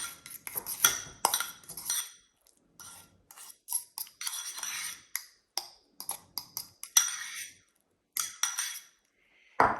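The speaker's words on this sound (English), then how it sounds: "we're just gonna use a fork and mix that around" A fork scrapes and clinks against a bowl while mixing seasoning into butter, a run of quick irregular metallic taps and scrapes close up, separated by short pauses.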